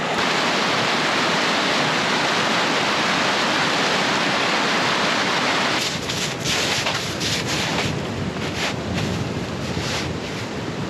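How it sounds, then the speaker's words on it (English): Mountain snowmelt runoff rushing at about 10,900 feet near Aspen, Colorado, a loud steady roar of flowing water with wind buffeting the microphone in the second half. "So there's the runoff."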